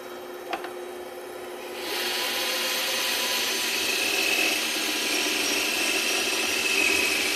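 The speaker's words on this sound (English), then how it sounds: "Let's do a little curvy work here so you can see how the saw goes." Steady broadband whine of a bandsaw cutting curves in wood at a woodworking product showcase, a small tap first, then the cutting noise jumps up around two seconds and holds loud and continuous, with no talk.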